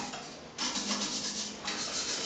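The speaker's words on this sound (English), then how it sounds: "using a scrubbing brush, brush thoroughly around the paddles, the back of the paddles and inside the chamber" A scrubbing brush rasps against the paddles and inside the chamber of a Stomacher 400 circulator, in two close bursts of rough rubbing separated by a short pause.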